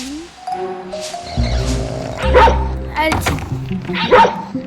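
Cartoonish dog barks from the stealth game Robbery Bob ring out in a few loud bursts over game music, with a person talking over them throughout.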